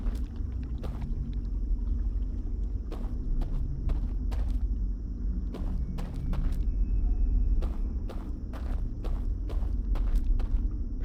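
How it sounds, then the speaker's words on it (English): Footsteps in the video game Outer Wilds fall in a steady, repeated series of sharp, close steps over a low rumbling ambient drone, with no talk. "I feel like my footsteps are so loud."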